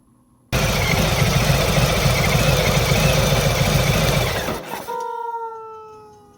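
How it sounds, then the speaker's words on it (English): A 2021 Harley-Davidson Street Bob 114 motorcycle idles with a loud, deep, lumpy throb, then the engine is switched off and the rumble dies away, leaving faint ticking and a soft electronic tone. "this is what the bike sounds like when you turn off the engine"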